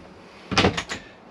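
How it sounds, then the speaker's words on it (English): A short sliding rumble as a cutlery drawer in a Chausson VIP 650 motorhome is pulled open, with a couple of quick rattling bumps, close by. "cutlery drawer, which just pulls out."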